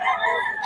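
Bull stag rooster lets out a brief crow, a short, bright call heard close and fairly loud.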